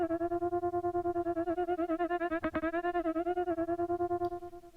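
A buzzy, harmonically rich synth tone from Imaginando FRMS wobbles steadily as a triangle-shaped LFO modulates it in a regular fast pulsing rhythm. It is sustained and close, then fades out near the end, with no voices.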